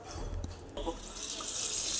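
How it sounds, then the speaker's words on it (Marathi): Bombay duck fish are rinsed under running tap water in a sink, a steady close gush of water with a few handling knocks and splashes. "आता हे बोंबील स्वच्छ धुवून घ्यायचे"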